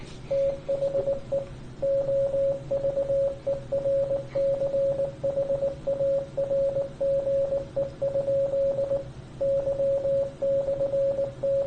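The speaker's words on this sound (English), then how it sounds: "What's a bloody long ass Morse code?" A long Morse code signal in an online video: a steady pure tone beeps in rapid dots and dashes with short gaps, loud and continuous over a low hum of background noise, with no speech.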